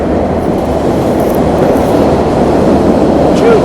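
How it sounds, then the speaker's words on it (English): Electric train passing nearby, a steady loud broadband rumble of rolling wheels and motor that holds evenly for several seconds, with a faint high squeal near the end. "That's an electric train."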